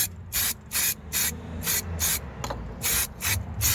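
Underseal coating sprayed onto the underbody and strut areas of a Mk1 Ford Focus, in about eight loud, sharp hissing bursts of under half a second each, evenly spaced and close by, with no talk.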